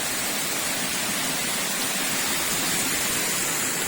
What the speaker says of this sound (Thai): เป็นน้ำตกเล็กๆ น่ารักน่ารักครับ